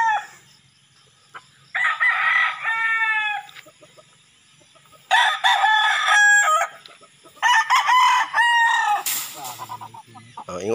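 Gamecocks conditioned for a derby crow and cluck in a yard, several long throaty crows overlapping with bursts of clucking, loud and near, with short quiet gaps between calls.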